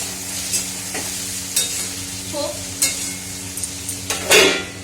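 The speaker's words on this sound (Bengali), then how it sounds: "এই যে পটলগুলো ভাজা ভাজা হবে" Pointed gourd (potol) fries in a pan over a gas stove, a steady hiss of oil with periodic spatula scrapes and light metallic knocks, close by with no one speaking.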